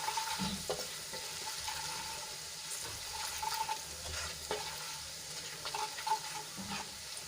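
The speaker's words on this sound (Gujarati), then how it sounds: "આ રીતે તેલમાં સાતળી લેશું એટલે લોટની કચાશ દૂર થઈ જાય" Gram flour sautéing in oil for a dried val bean curry, a continuous sizzle with repeated stirring scrapes and faint clicks of the spoon, close and fairly even throughout, no voices.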